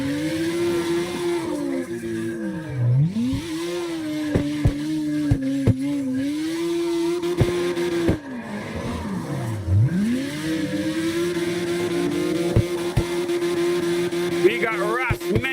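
Drift cars in the CarX Drift Racing Online video game, engines holding a high rev tone that dips and climbs back twice, with tire chirps, under steady talk from a commentator.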